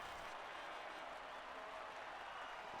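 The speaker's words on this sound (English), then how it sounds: "Ferrari winning Italy. The crowds go wild." Steady crowd roar and applause at the Monza circuit in Italy in an F1 video game, celebrating a Ferrari win; a continuous, distant wash of cheering with no distinct voices.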